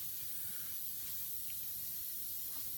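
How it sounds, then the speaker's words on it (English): An airbrush blows a steady stream of air across epoxy resin to raise ripples, a constant soft hiss that holds at an even level throughout. "The easy way to do it, and the way that I prefer, is to use the airbrush."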